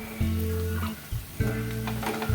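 Ragi flour bondas fry in hot oil, a continuous close sizzle broken by a couple of soft scraping knocks as they are turned over, no talking.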